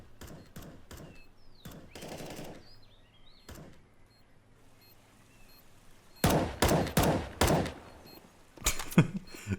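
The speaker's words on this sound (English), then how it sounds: "It's Wunderherrlich firing at his mate behind the smoke." Counter-Strike gunfire on Inferno or Cache as a player shoots a teammate behind smoke. Sharp rifle shots and short bursts come at a distance early, then louder, closer rapid bursts near the end, with quiet game ambience between.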